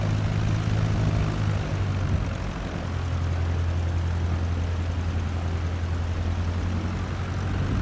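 A Cessna 152 propeller engine runs at full power on the takeoff roll down runway 36, a loud steady drone with a strong low hum that holds without a break from start to finish.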